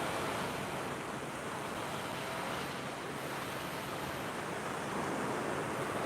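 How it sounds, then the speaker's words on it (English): Ocean waves at La Caleta heard from a distance, a steady broadband wash of surf with constant wind noise and no voices. "This will give you an idea of the waves from a distance."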